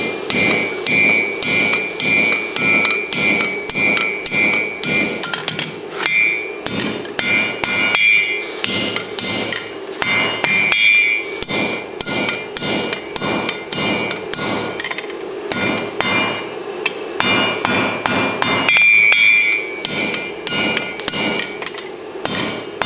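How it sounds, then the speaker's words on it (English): Repeated heavy hammer blows strike hot rebar tongs being forge welded with a double cleft weld. The strikes come close and loud in quick rhythmic runs of ringing metallic hits, broken by brief pauses. "put them in the fire, bring them up to a welding heat, and forge weld them together then"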